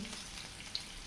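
Onions frying in oil in a pan for prawn and ridge gourd bhaji, a soft steady sizzle close by and fairly quiet, with no talking.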